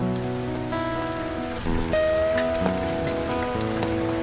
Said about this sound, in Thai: วันนี้ก็โดนฝนเล่นงานแบบเต็มๆกันเลยนะครับผม